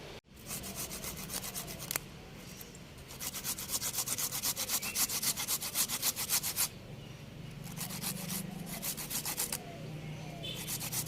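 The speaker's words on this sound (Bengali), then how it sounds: "আর এর সঙ্গে এখন এক টুকরো আদা আমি ঘষে দিয়ে দিচ্ছি" A piece of ginger rubbed by hand over a grater, rapid rhythmic rasping strokes in bursts with brief pauses between, close and clear, no voices.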